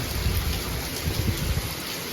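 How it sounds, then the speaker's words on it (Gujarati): Heavy rain pouring steadily over flooded streets in Nadiad, a dense continuous hiss with a low rumbling undertone, no voices. "વરસાદ ચાલુ થઈ ગયો છે."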